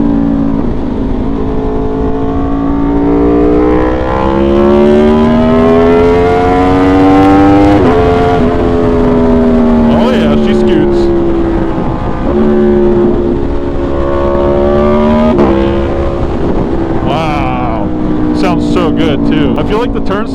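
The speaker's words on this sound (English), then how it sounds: "But we're going to take some back roads to see how this thing really feels." An Aprilia motorcycle ridden along back roads, the engine loud and close with rising and falling revs as the rider shifts through the gears, over steady wind noise, a voice briefly heard near the end.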